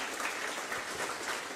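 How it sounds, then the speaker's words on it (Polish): Steady, dense applause from a large crowd at a political party's local-government convention in Warsaw, cheering for a speaker named Przemek, loud and continuous throughout without voices. "Kochani, wielkie brawa dla Przemka"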